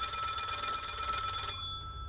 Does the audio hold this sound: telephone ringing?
yes